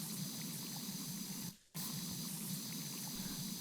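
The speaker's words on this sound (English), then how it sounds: "Let's get some more soap on the wall. The soap's a really nice sound" A pressure washer in PowerWash Simulator 2 sprays soap onto a wall, a steady broadband hiss that cuts out for a moment in the middle and then resumes, with no talk.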